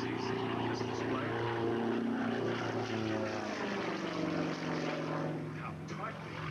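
A propeller-driven warbird flying a tight display at an air show drones loudly overhead, its engine pitch shifting as it passes, heard with some faint crowd sound in the background.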